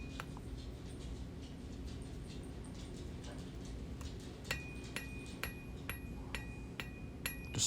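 A cross peen hammer strikes hot iron while hand forging a split cross, sharp metallic ringing blows spaced about half a second apart, fairly faint over a steady background rumble.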